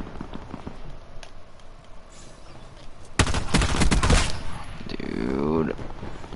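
Gunfire in a Call of Duty match: sparse distant pops, then a loud dense burst of automatic fire for about a second, followed by continued in-game noise and a falling whine.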